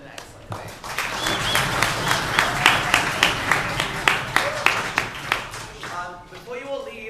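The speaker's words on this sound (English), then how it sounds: "We would like to offer a round of applause for all speakers" A room of listeners at a European Universities Debating Championship quarterfinal in Warsaw applauds the speakers, building to a steady round of clapping with a few sharp, rhythmic claps, then fading as voices begin to murmur.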